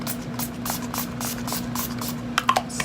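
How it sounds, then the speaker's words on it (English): Urban Decay Chill setting spray misted in a series of short, soft hissing puffs, close and fairly quiet over a low background hum, with a few sharper clicks near the end. "So I'm just gonna take some Urban Decay Chill Setting Spray"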